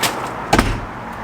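A newly fitted wooden back gate door shutting in its frame, a single solid thud with a brief rattle just after the midpoint, heard close and alone against steady background noise.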